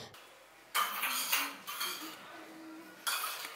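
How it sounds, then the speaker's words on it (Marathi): A metal bowl is lifted out of a metal cooking pot, giving several sharp clanks and scraping rings of metal on metal, close and distinct, with quiet gaps between them. "कापूर वितळल्यानंतर पातेल्यातून वाटी बाहेर काढायची आहे"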